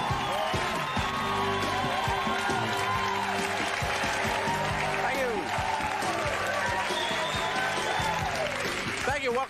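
A 1991 talk-show studio audience breaks into applause on cue, broad clapping and a few whoops layered under music and a host's voice across the whole stretch.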